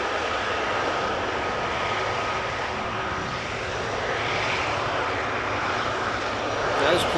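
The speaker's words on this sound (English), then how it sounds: "What you're hearing is the 767 behind this triple." A Boeing 767 sits on the ground at Amsterdam Schiphol Airport, its jet engines giving off a steady, loud roar that holds for several seconds and swells slightly near the end.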